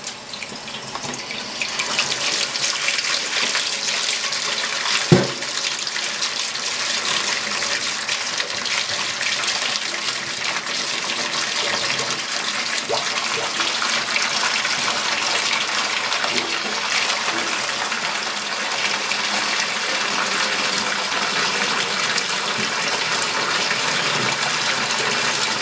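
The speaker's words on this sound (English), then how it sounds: "we're just going to fill this sink up with cold water" Cold tap water runs steadily into a kitchen sink, a continuous broadband gush that fills it for the full stretch, with one brief knock near the start and no talk.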